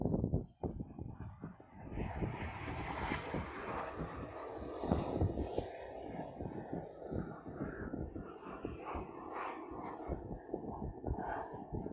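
A jet airplane taking off from the other runway at Honolulu airport, a broad, steady roar of engines heard from a distance with a rushing wind-like texture that holds for the whole stretch.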